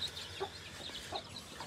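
Chickens cluck softly at a distance, a few scattered short calls over a quiet background, with no voices.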